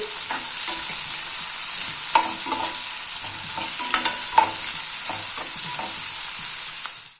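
Chopped onions frying in oil in a pan, a steady loud crackling sizzle throughout, broken by occasional light scrapes and taps of a stirring spoon.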